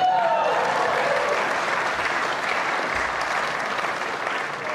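An audience at a film awards ceremony breaks into sustained applause, a dense, even wash of many hands clapping that stays loud and steady throughout, with no talking over it.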